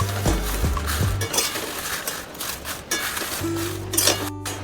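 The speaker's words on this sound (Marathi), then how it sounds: "छान असं दोन्ही साईडने असं हलवून भाजून घ्यायचं आहे" Bay leaves and stone flower being dry-roasted and stirred in a pan, producing intermittent clinks, scrapes and light knocks of a utensil against metal, close up, with brief rustling between strikes and no talking.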